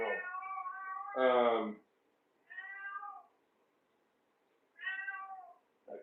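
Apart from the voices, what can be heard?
cat meowing loudly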